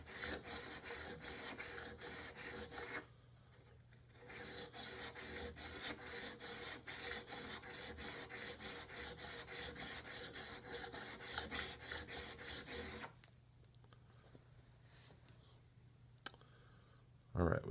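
A rusty Corona garden pruner blade is rubbed back and forth on a sharpening stone, giving steady rapid rasping strokes up close. The strokes pause briefly near the start, then stop again toward the end with only faint scrapes.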